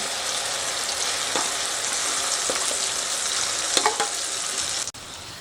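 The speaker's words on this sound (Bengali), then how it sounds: "এই গ্রেভিটা এই তেলের মধ্যে দিয়ে দিচ্ছি" Chicken chaap gravy poured into hot oil in a pan sizzles loudly and steadily, with a few sharp stirring clicks, and the sound cuts off abruptly near the end.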